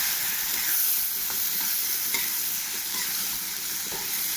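Ginger, green chillies and spices sautéing in a pan, heard as a continuous dense sizzle with faint occasional stirring taps, steady and close, with no talk.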